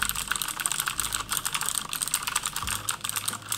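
Rapid, steady typing on a ROG Strix Scope RX optical gaming keyboard with optical switches, crisp clicks running continuously at a close distance with no talking.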